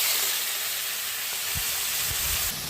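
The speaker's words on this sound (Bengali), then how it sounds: "রসুন ভাজা হয়ে গেছে" Garlic frying in mustard oil in a pan gives a steady, close sizzle and hiss throughout, with a few soft knocks near the end and no talking.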